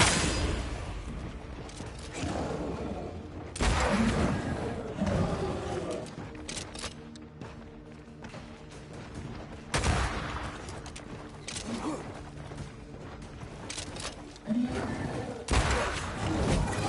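Lantern rifle shots in the game Banishers: Ghosts of New Eden, with several loud broadband blasts spaced seconds apart over a rumbling background mix and mechanical clatter.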